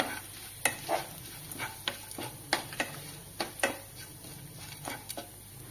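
Grated coconut and dried red chillies being dry-roasted in a pan for ennai kathirikai kulambu, a steady soft frying hiss punctuated by repeated sharp clicks and scrapes of a spoon stirring against the metal.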